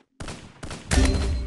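Gunfire in the battle-royale video game Free Fire: a rapid burst of loud, close shots in quick succession, building into a heavier volley toward the end.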